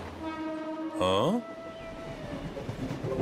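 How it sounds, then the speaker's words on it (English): A cartoon train's horn blares briefly with a rising, bending pitch over a steady background hum, then fades back to the low rumble of the approaching train. "Why is a train coming?"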